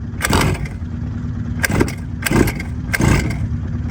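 A small RC boat engine is cranked repeatedly, sputtering in four short bursts with pauses between, close and loud but never catching.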